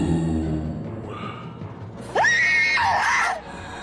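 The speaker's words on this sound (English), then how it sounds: "screamed in absolute terror and cried out in desperation" A girl screams in terror for about a second and a half in a horror story sound effect. The scream is loud and shrill and rises suddenly after a quieter stretch of low background.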